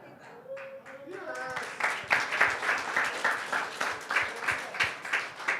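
Congregation at a church worship service in Jakarta clapping in a steady rhythmic beat that swells after a sung or spoken opening, rising to a moderately loud, pulsing applause under a voice.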